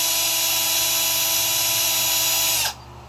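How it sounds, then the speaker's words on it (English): A power drill whines steadily and loudly, close by, as it bores out holes in an RC car's 4-link front servo mount plate, then stops abruptly near the end. "so I'm going to drill these out a little bigger"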